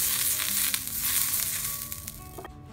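Rice-flour chitoi pitha batter cooking in an oil-greased pan, a continuous close sizzle and hiss with faint scraping, tapering off near the end, no talking.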